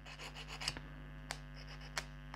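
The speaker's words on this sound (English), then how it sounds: "So we're going to use a hobby file." A hobby file rubs down the nubs on a plastic model part, giving faint, close scratchy rasping strokes with a few small clicks over a low steady hum.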